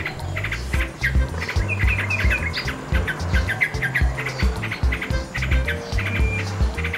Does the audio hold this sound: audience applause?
no